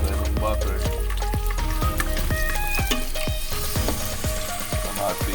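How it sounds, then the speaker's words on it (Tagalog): Onions frying toward golden brown for chicken biryani, a loud steady sizzle overlaid with a run of sharp repeated knocks and clinks, likely utensil hits or stirring. "Fry po yan natin hanggang maging golden brown po siya."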